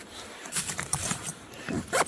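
A zipper down the front of a backpack on a winter camping trip is pulled open in a few quick rasping bursts, close and fairly loud, with no voices.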